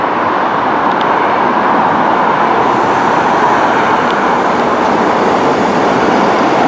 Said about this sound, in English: Next train to arrive on platform 1, 9:53, Transport for our service to Birmingham International.